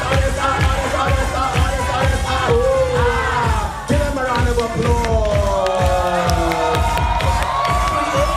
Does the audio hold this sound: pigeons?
no